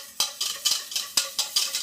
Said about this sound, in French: on va mélanger les jaunes d'œufs